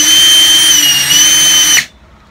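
Cordless drill driver set to torque setting 1 whirring loudly at a steady high pitch, close up, then cutting off abruptly near the end, leaving silence.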